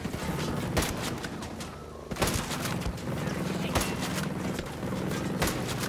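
An explosion from a grenade or mortar goes off in a Ghost Recon Breakpoint firefight. Sharp repeated cracks and thumps break through dense battle noise, with several hard bangs spread across the clip.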